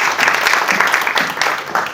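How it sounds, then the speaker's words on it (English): An audience at a presentation event claps in a brief burst of dense, steady applause, fairly loud and without voices. "A round of applause for Rosa."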